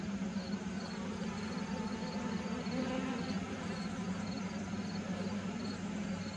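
Honey bees drone in a steady, low, continuous hum during an inspection of a horizontal hive, a dense buzz filling the air near the open box without any voices.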